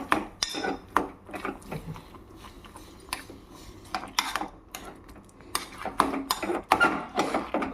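Sweet potato filling with melted jaggery is stirred in a cooking pan, giving close, irregular scrapes and metallic clinks of a utensil against the pan, with brief pauses between strokes.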